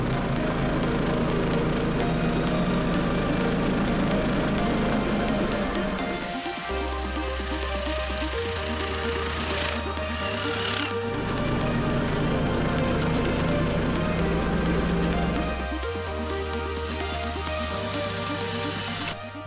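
Two homemade snowmobiles, one with an 18 hp Sharmax engine and one with a 20 hp Lifan engine, running loud and close, their small engines droning and shifting pitch as revs rise and fall.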